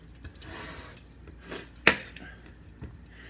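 A Dalstrong Damascus steel knife slices through a pepper in a few soft scraping strokes, followed by one sharp crisp snap as the blade cuts through, close and fairly quiet.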